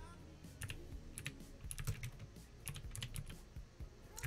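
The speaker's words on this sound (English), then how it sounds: "I am going to just type in desktop only here" Computer keyboard keys tapped in quick irregular bursts with brief pauses, close and fairly quiet, no voices.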